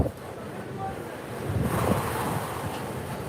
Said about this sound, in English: Very windy day, as you can hear and see, of course.